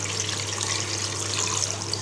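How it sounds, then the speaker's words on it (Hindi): Water pours steadily into a pot of beef while Punjabi-style salted meat is being cooked, a close, continuous splashing trickle with a low steady hum underneath. "हम डालेंगे पानी।"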